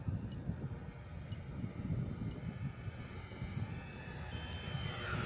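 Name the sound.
Dancing Wings Hobbies Fieseler Fi156 Storch RC model plane flying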